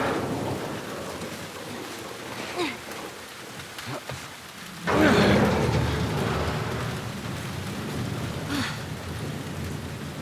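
Steady rain pours in The Last of Us Part I, with a deep thunder crack rolling in midway and lingering rumble over the downpour.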